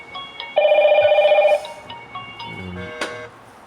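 A call from a Hikvision KH8520-WTE1 IP intercom rings on a phone in one loud, steady electronic burst of about a second. Softer clicks and faint handling noises follow, and a short sharp tap comes near the end.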